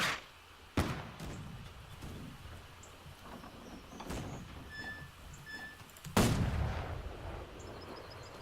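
Several heavy booming cannon shots in the video game Holdfast: Nations At War, during a coastal siege, spaced seconds apart, each followed by a rumbling decay over a low ambient background.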